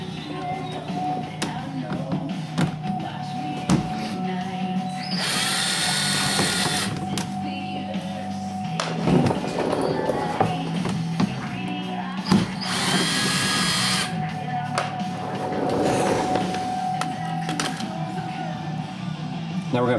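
Power drill spinning in short whirring bursts, close and fairly loud, removing 10mm splash-shield bolts from under a Dodge Challenger RT, with someone talking over it.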